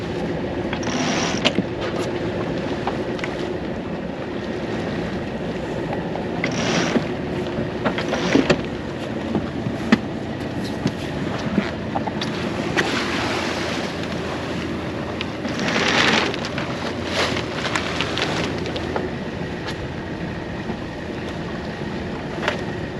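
Aboard a sailboat, a Code Zero sail is rolled out from its furler amid steady wind and water noise, with several louder rushing and flapping swells rising and fading.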